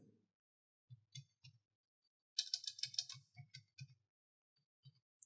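Quiet keystrokes on a computer keyboard, first a few scattered taps, then a quick burst of typing, then more sparse clicks trailing off.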